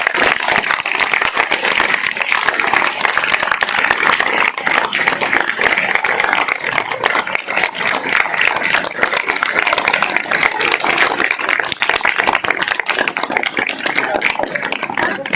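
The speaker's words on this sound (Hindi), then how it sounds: "जोरदार तालियों से" Loud, sustained applause from an audience at a school event in Sillod, Maharashtra, welcoming police officers; dense, continuous clapping fills the whole stretch without letting up.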